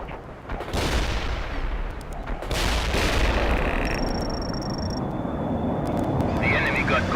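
A napalm strike in the video game World in Conflict erupts as a loud, sustained roar of fire and blasts, with a sudden surge partway through and a thin electronic tone over the dense rumble.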